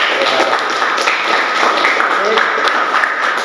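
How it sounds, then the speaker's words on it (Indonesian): Students in a physical education class applaud after a class discussion, producing a steady, dense wash of clapping from a group close by that fills the room evenly throughout. "aplaus buat kalian semua"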